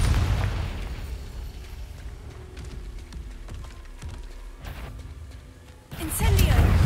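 In Hogwarts Legacy, the Confringo explosive spell goes off as a sudden booming burst near the end, rising from rumbling combat noise and effects that fill the stretch before it.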